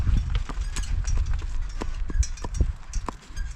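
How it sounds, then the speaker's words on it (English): A mare trots along a grassy cow field, her hooves giving a steady, quick clip-clop rhythm close by, with light tack rattle and low outdoor rumble underneath. "Good mare. Trot on. It's her teeny tiny trot."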